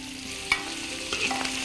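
Prawns tossed into a pan of boiling syrup give off a steady sizzle and bubbling, with a couple of sharper clatters from stirring, close up and with no talking.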